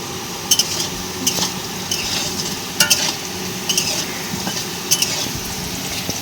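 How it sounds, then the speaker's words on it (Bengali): Potatoes with a little turmeric fry in a hot pan with a continuous sizzle, punctuated by sharp metallic taps and scrapes as they are stirred, and no voices. "আলু ভাজা হয়ে গেছে, এবার তুলে নেব।"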